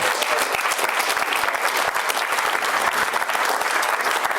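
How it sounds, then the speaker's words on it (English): An audience gives a sustained round of applause for Charlie, a volunteer from London called up from the crowd at a live show; dense, steady clapping fills the whole stretch without pause. "Give Charlie a big round of applause."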